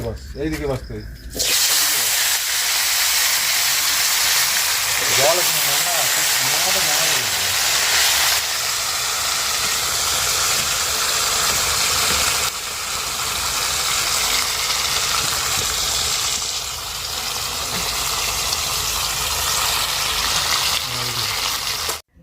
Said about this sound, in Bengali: আলুটাকে একটু লবণ হলুদ দিয়ে ভেজে নিচ্ছি